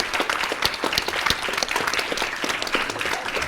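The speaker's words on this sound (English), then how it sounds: "So a big applause" Applause from a conference audience for the team, a dense crowd of hands clapping continuously, moderately loud and close, with no voices standing out.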